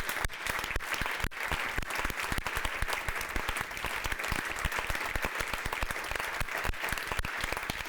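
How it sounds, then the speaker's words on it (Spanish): Audience applause in a conference hall for rescuers, sustained even clapping from a large crowd, rather faint and distant, carrying on for several seconds without talk. "para las que yo pido un aplauso"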